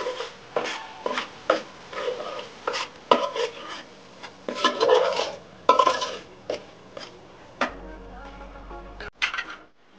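Spices and salt are stirred into a pan for fish curry, with repeated scraping and knocking of a spoon against metal in uneven strokes, then a short steady hum near the end.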